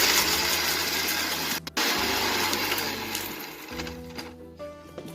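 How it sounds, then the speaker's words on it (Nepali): An electric grinder whirs loudly as it grinds cooled, roasted spices for spicy Nepali potatoes, running in bursts with two brief stops and restarts. "यसलाई मजाले पिस्ने हो।"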